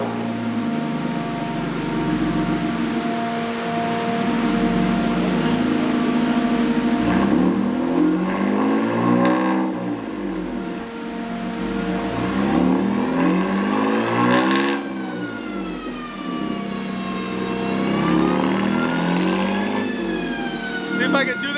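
A BMW M3 engine revs hard on a dyno in an enclosed room, climbing and falling through several loud sweeping pulls with a steady fan-like drone underneath, each rev rising in pitch before dropping back.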